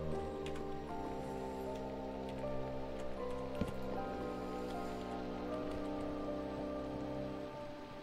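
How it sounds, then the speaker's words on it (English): Rain falls in the blocky survival game Minecraft, a steady dense patter on surfaces with faint ticking drops, layered over a continuous sustained musical background and heard without any talking. "It has been raining for like days outside."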